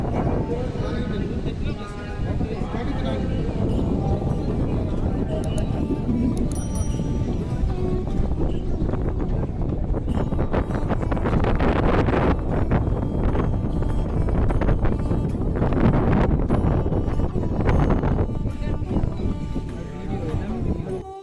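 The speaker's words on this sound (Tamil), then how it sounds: "அந்த விண்டோட சவுண்டு உங்களுக்கு நல்லாவே கேட்கும்." Strong wind buffets the microphone at the top of a lighthouse, a loud continuous roar with rough gusting bursts that swell and ease across the whole stretch.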